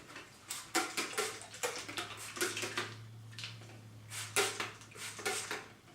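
Water spritzed onto dry kinky 4c hair in a series of short, close hissing sprays with brief pauses, alone without talk, over a faint steady hum.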